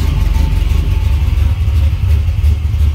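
A 1966 Chevrolet Nova SS engine rumbles deep and throaty through a big Flowmaster exhaust, idling steadily close by without pause.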